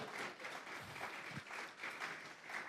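A church congregation claps together during a Spanish-language sermon, a steady wash of fairly faint applause lasting throughout with no one speaking over it.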